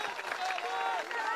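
At a rally in Madhubani, a dense crowd claps continuously in a brief burst of applause, with a loud speaking voice over it.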